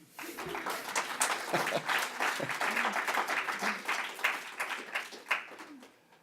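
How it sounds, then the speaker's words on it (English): An audience at an arts and creativity event applauds after a poem reading: a dense, continuous wash of many hands clapping at moderate loudness, with faint voices mixed in. "You get spoiled with applause after a while"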